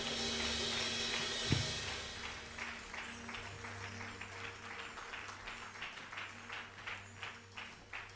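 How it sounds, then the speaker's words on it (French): Applause for the singers at a Christian church service, with broad clapping that starts full, fades and then carries on steadily at a moderate level, with a faint hum under it. "Est-ce que nous pouvons acclamer le Seigneur pour nos bien-aimés chantres?"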